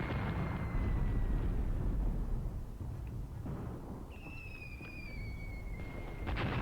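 Artillery barrage in the Graviteam Tactics war game, a steady low rumble of distant explosions rolling and booming without a break, with thin whistling tones sliding over it near the end.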